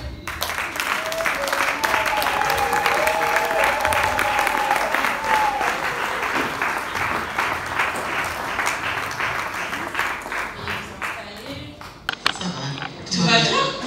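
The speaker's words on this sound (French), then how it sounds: "je vais donc t'inviter, sous vos applaudissements les plus chaleureuses" An audience claps warmly at a book launch vernissage in a French-speaking venue, dense sustained applause with faint voices and cheers mixed in, thinning out near the end as a few voices take over.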